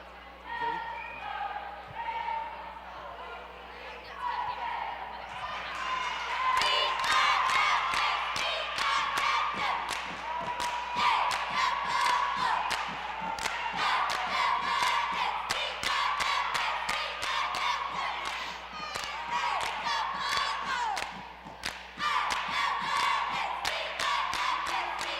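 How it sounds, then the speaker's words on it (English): Cheerleaders at a high school basketball game shout a rhythmic cheer with sharp claps and stomps, an indoor gym echoing with loud chanted voices over a crowd. "Let's get around and do your favorite cheer."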